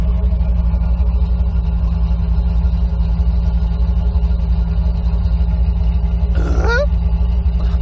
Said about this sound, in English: She sounds like she's idling exactly the same as she used to.